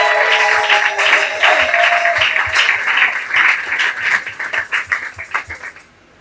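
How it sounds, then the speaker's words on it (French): A church congregation applauds and cheers for God, giving a dense, sustained round of clapping with voices cheering over it. The applause breaks into scattered claps and fades out at the end. "Alors, est-ce que vous pouvez acclamer pour l'Éternel?"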